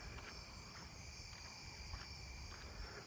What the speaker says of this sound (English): I can already hear the robust conehead across the street from my house.